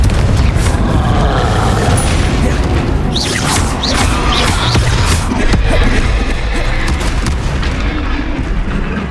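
Confringo blasting spell from the Hogwarts Legacy video game, a loud booming explosion with crackling fiery debris and dense rumbling noise, sustained and heavy throughout, followed by brief whooshing swishes.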